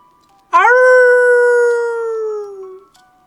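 A single long, loud howl rises sharply and then holds a steady wavering tone for about two seconds before trailing off, with no other sounds around it.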